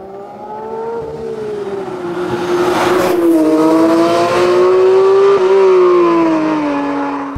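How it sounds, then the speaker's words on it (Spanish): A 2024 Porsche 911 GT3 Touring is driven hard through a series of curves. The engine is loud and close, its pitch rising and falling as it revs up and eases off between bends, with no talk. "es que es una maravilla enlazar curvas con este coche"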